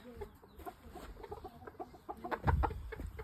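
A hen of an imported German Shamo game bird line clucks in several short bursts close by, with soft rustling and a louder flurry of clucks toward the end.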